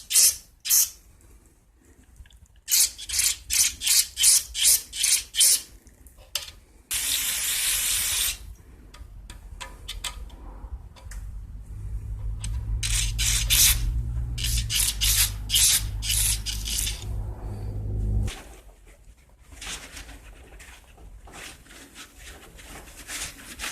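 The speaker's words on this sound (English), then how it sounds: "I'm going to attach my straw here and just kind of blow all of this out right here." A spray can fitted with a straw blasts cleaner through the carburetor passages of a 2012 Yard Machines mower, first in a rapid run of short bursts, then a long sustained hiss, with more short bursts near the end.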